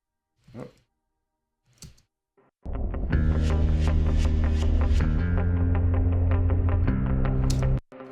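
A bass guitar plays alone, low sustained notes with steady plucked attacks after a few faint breaths and taps at the start.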